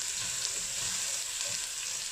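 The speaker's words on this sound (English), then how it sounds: "I'm also going to add my minced garlic. And of course, I'm going to give it a good stir." Minced garlic and onion frying in a pan while being stirred, a close, continuous bright sizzle with faint rhythmic scraping underneath.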